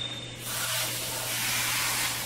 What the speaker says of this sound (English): And I'm choosing to use the airbrush